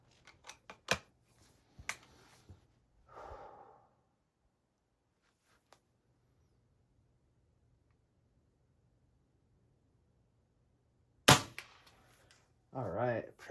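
An air gun fires Daisy wadcutter pellets at a can outdoors, producing several sharp, short cracks and snaps spread apart with long silences, plus a few brief rustles and a voice near the end.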